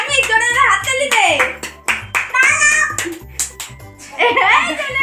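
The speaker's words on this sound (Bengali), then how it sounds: "সামনে জোরে জোরে হাততালি দে।" Hands clap repeatedly at a family birthday celebration at home, loud and close, mixed in with children's and adults' voices and some giggling.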